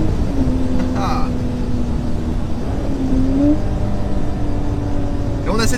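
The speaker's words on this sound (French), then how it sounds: "Et on a cet échappement qui est quand même chantant" A modified BMW Z3 M sports car's exhaust drones steadily from inside the cabin while driving under load, a loud continuous engine hum with rising and falling tone, as someone talks over it.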